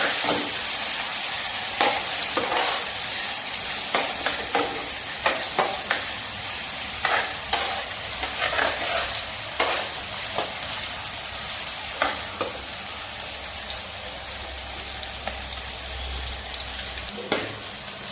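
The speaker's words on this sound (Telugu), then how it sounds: "ఇవన్నీ కొంచెం పచ్చిమిరపకాయ ఉల్లిపాయ వేగిన దాకా ఇలాగే వేస్తూ ఉంటాం" Green chillies and onions sizzle steadily in a hot pan for egg fried rice, with a continuous frying hiss broken by repeated sharp scrapes and clicks of a spatula stirring them, close and fairly loud, no voices.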